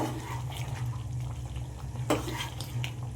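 Chicken for biryani is stir-fried in a pan: a continuous low sizzle with light scraping and clinking of a utensil against the pan, one sharper knock near the middle.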